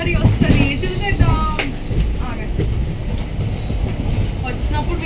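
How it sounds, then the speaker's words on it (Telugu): A moving passenger train departing Rajahmundry rumbles and clatters steadily from start to finish, with wheel squeals and rhythmic clickety-clack over the tracks and faint voices in the carriage. "రాజమండ్రి నుంచి ట్రైన్ స్టార్ట్ అయిపోయింది."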